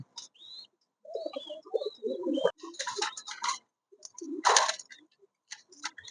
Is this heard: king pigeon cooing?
yes